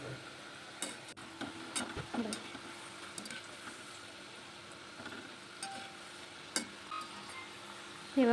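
Pieces of shankarpali dough fry in hot oil with a soft, steady bubbling sizzle, marked by occasional stirring clicks and utensil taps, with a louder clatter near the end.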